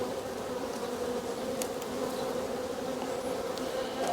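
Dense, continuous buzzing of many honey bees at an open hive in an apiary while frames are inspected, a steady close drone with no talking.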